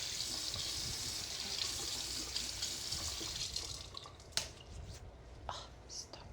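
Water runs from a tap in a steady, close rush while something is washed, then the flow stops and a few drips and small handling clatters follow.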